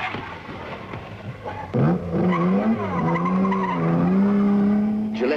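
A 2-litre sports car racing in the 1953 Mille Miglia roars past nearby, its engine pitch rising and shifting through gears, loud and continuous.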